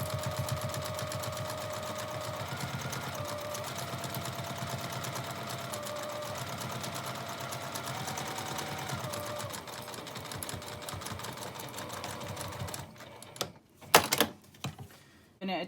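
A sewing machine bastes an eighth-inch seam around the bottom of a double zip case bag in a long continuous run, then stops and gives way to a few brief handling clicks.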